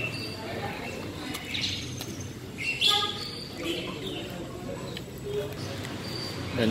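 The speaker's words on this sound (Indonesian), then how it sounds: "Dan di sini juga ada suara burung" Small birds chirp faintly in short, scattered calls beside an outdoor street-food stall in Indonesia, partly under low background noise and voices.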